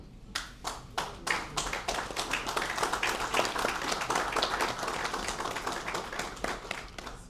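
An audience at an official ceremony in the DRC marking the end of an mpox epidemic applauds, starting with a few separate claps that quickly merge into a steady, moderately loud round of clapping.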